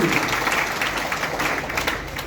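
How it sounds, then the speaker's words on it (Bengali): Crowd of trainees at a Sonali Life Insurance training session breaking into brisk, sustained applause, dense and fairly loud throughout with no pauses. "সবাই মিলে সবার জন্য একটা জোরে সোরে করতালি চাচ্ছি আমি"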